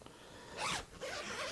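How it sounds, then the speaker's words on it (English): Zipper on a leather BookBook case for a 15-inch MacBook Pro being drawn open in one brief, close, raspy pull, a short pause, then a second steady zip, with no voices. "Strong zippers."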